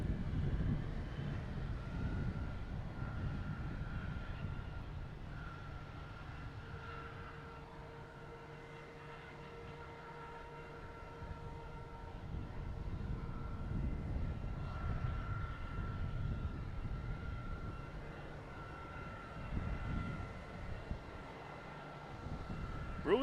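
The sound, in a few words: Embraer E175 airliner arriving at Boston Logan Airport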